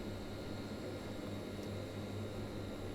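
A Hawker Siddeley HS 748's twin turboprop engines hum steadily in the Prepar3D flight simulator as the throttles ease back, giving a droning, even cockpit roar with faint tonal whine and no talk.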